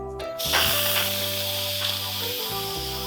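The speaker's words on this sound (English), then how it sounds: "I'm gonna go ahead and release the pressure." An Instant Pot pressure cooker venting its steam pressure gives a loud, steady hiss that starts after a brief pause and runs continuously over background music.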